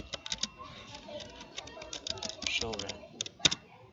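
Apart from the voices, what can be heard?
typing a command on a computer keyboard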